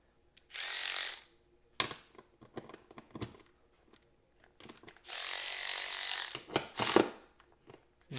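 A Ryobi 4V cordless 3/8-inch ratchet loosening a screw: two long, loud bursts of motor whirring, with rapid clicking and ratcheting between them, close up and without talk.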